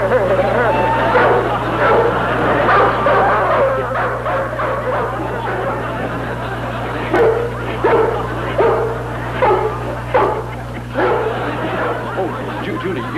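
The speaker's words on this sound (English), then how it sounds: "There's a big dog running loose in the yard, and they're all inside." A big dog loose in a yard barks and whimpers in short repeated bursts over a steady low hum, with some chatter mixed in.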